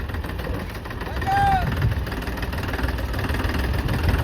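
A tractor engine idles with a low, steady rumble and knocking throb; a voice speaks briefly over it.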